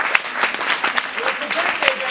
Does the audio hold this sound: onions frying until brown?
no